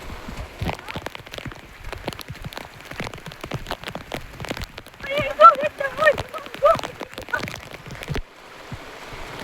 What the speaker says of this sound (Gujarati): વરસાદ ભૂકા કાઢ નાખે એવો હતો આજ આવ્યો